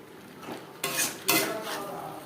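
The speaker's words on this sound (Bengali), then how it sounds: "মশলার সাথে আলু পটল বেশ ভালো করে মিক্স করে দেবো।" A spatula scrapes and clinks against a pan while fried potato and pointed gourd are mixed into masala, giving two distinct scraping strokes over a quiet background.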